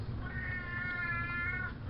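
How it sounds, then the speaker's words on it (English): A pet cat gives one drawn-out, insistent meow lasting most of the moment, fairly close over a steady low background hum. "Tharsis, my cat, Tharsis, he has things to say."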